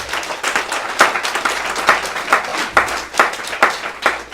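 A church congregation claps for Jesus during a French-language sermon, loud hands beating in a steady rhythm with strong, regularly spaced accents.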